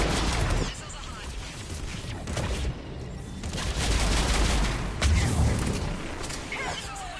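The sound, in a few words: missiles launching in the video game Mass Effect Legendary Edition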